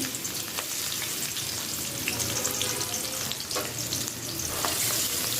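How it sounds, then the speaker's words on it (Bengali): Chopped onion fries in hot oil with a dense, continuous sizzle, crackling close up and steady throughout, with stirring scrapes and no voices. "এখন একটু পেঁয়াজ কুচি দিয়ে দিলাম"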